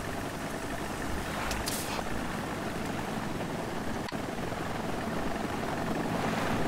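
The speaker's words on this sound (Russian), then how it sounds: "Вертолет! Все в укрытие!" A helicopter in the game Sniper Ghost Warrior drones as a constant broad rotor and engine roar, steady and fairly close, with no voices over it.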